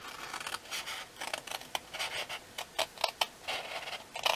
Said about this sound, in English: I'm sticking to my small scissors today